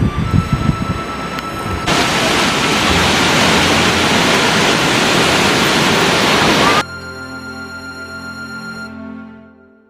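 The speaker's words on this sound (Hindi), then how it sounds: "तो ये बालगंगा नदी है" The Balganga river in Uttarakhand, a steady loud rush of flowing water filling several seconds, preceded by brief speech and then cutting to quieter tonal sound with a voice before fading out.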